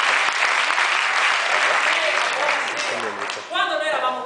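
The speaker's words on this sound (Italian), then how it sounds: "Un applauso per Gianmarco" An audience applauds at a live comedy stand-up show in Bergamo, a dense and steady burst of clapping that fades out near the end as a voice cuts in.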